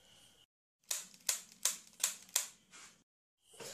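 Five sharp blank gunshots crack in quick succession, close and loud, with a sixth weaker pop after them, short bursts of indoor noise before and after.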